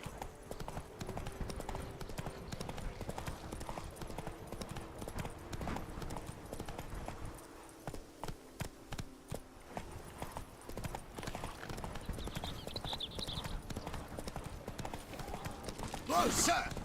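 Horse hooves gallop in a rapid, steady clip-clop across The Witcher 3: Blood and Wine, with a brief lull midway and voices speaking over the ride.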